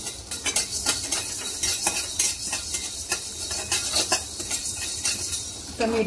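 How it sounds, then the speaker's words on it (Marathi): Whole spices dry-roasting in a pan over a low gas flame, stirred steadily so they rattle and scrape against the metal in a continuous close-up clatter, with no talking. "स्लो गॅसवर हे सगळी जिन्नस आपल्याला भाजून घ्यायची"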